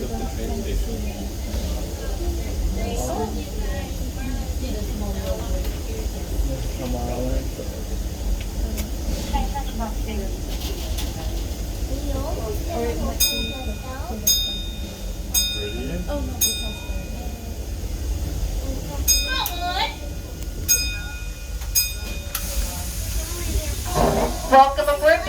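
A Disneyland Railroad steam train hisses steadily beneath ongoing chatter, with repeated bright whistle-like bursts and clanks toward the end.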